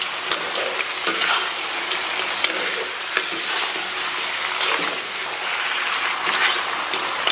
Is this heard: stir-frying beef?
yes